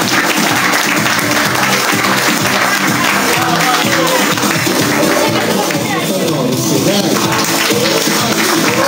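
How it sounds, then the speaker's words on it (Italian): A crowd at an Italian party entertainment show claps loudly and steadily, dense applause sustained throughout with voices mixed in. "Un applauso più forte"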